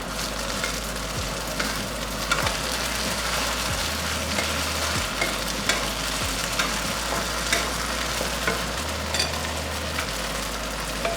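Crispy flat rice noodles with chicken, shrimp, sliced spring onions and coriander stir-fried fast in a hot wok, a steady dense sizzle with scraping stir strokes throughout, close and with no talk.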